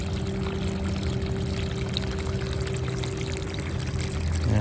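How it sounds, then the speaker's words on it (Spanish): Floodwater pours steadily out of a pipe on a flooded ranch, a continuous rushing, splashing flow that stays even throughout and swells slightly at the end, with no speech. "está saliendo agua aquí por el tubo."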